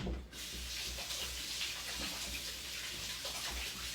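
Running tap water splashes steadily over hands at a kitchen sink during home muffin baking, a quiet, continuous hiss and patter with faint irregular sloshes throughout.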